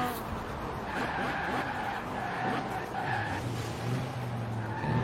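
A car brakes into a roundabout on a road drive, its tyres giving a drawn-out squeal over a steady engine and road drone, heard from inside the car without speech.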